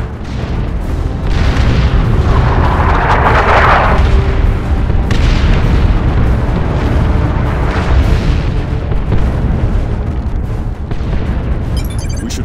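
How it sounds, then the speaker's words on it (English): Artillery barrage explosions in the Warhammer 40,000: Dawn of War II Chaos Rising PC game, heavy booming blasts that roll into one another in a loud, sustained rumble, with a sharper burst near the start. "Launch barrage! Artillery, clear the area!"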